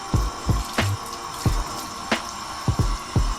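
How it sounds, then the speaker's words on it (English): Toy figures are rinsed under cold running tap water, with a steady faint stream punctuated by repeated sharp splashes and knocks as the toys are moved and shaken under the flow. "now we're going to wash them with cold water"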